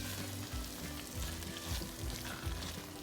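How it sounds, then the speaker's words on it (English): Prawns and masala being mixed together in a pan while they fry for a prawn curry, a steady sizzle with soft, regular stirring scrapes every half second or so, moderately close. "So let's mix the prawns and the masala all together nicely."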